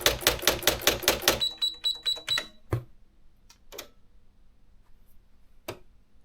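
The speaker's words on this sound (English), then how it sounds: "We will release the margin and we will continue to type." An Olympia manual typewriter clacks through a rapid, regular run of keystrokes, followed by a bell ding and scattered single clicks and thumps as the margin is released, close and alone.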